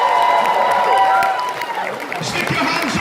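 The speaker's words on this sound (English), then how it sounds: "I want everybody to give a big round of applause here" A convention audience applauds and cheers at an opening show, a dense wash of clapping and crowd noise under a loud amplified voice speaking from the stage.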